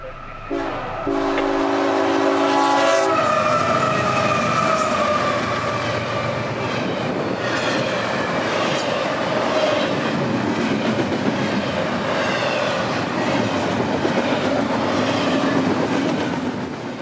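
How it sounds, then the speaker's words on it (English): A CSX intermodal freight train, I-143, led by EMD locomotives rolls south in evening light, opening with a loud horn blast, then a sustained rumble and clatter of wagons passing close by. "I-143 would be in the vicinity now, calling signals and coming south towards us"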